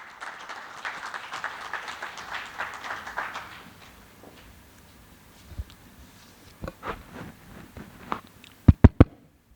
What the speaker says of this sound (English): Please help me in welcoming Mr. Soti Selvam on stage with thunderous applause.